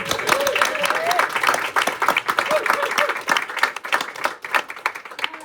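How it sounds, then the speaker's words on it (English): Applause from diners at a community Christmas dinner in an ecovillage café: a dense, lively round of clapping from a roomful of people, with chatter and voices mixed in. "So let's give everyone else a big round of applause."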